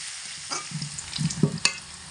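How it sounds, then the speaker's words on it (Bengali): Potatoes sizzle softly in a pan over medium heat with salt and turmeric, while a utensil stirs and scrapes a few times, the clinks and shuffles rising over the gentle frying. "লবণ আর হলুদ দিয়ে মিডিয়াম আঁচে রেখে আলু খুব লাল লাল করে ভাজা করে নেব"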